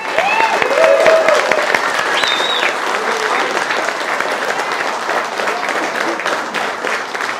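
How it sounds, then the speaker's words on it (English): Audience at an Irish Whiskey Society evening breaking into a loud, sustained round of applause, dense clapping with a few cheers and whoops rising above it, close and steady throughout. "So please give them a round of applause"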